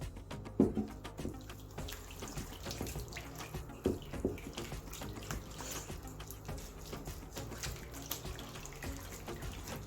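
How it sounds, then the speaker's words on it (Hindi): Water trickles and splashes into a bowl of sohan halwa batter, a quiet running pour with a few sharper clinks and stirs, faint and close with no talking. "अब हम इसमें थोड़ा थोड़ा पानी ऐड करेंगे।"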